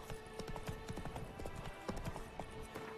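Horse hooves clip-clopping at a walk in The Witcher 3: Blood and Wine, a steady close rhythm of hoof strikes over faint game ambience.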